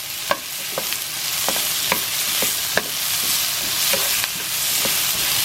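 Sweet and sour pork with pineapple frying in a pan, a continuous hiss punctuated by about a dozen sharp scraping knocks as it is stirred, close and fairly loud.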